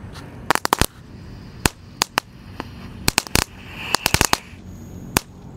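A tank-shaped firecracker (mercon tank) burns and pops outdoors, giving off irregular sharp cracks and bursts in quick clusters over a hissing background.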